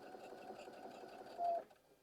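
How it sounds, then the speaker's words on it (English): A sewing machine stitches a quarter-inch seam across a half square triangle quilt block, its fast needle chatter running continuously at moderate volume before slowing and stopping. "I'm just going to sew right off my block"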